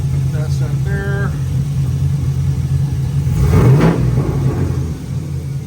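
An LS V8 car engine with a fuel system problem idles with a low, steady drone, then revs once in a brief rising swell before settling back, close and loud, with brief speech near the start.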